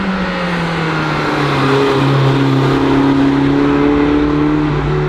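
A car accelerates hard from close by, its mid-pitched engine note climbing steadily in pitch and growing slightly louder over a few seconds, with no talking.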